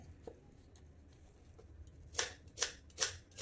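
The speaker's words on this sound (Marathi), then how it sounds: "कांदा कापून घेत आहे." An onion is chopped on a board for Maharashtrian stuffed brinjal. A quiet stretch gives way to four sharp, close knife chops in quick succession near the end.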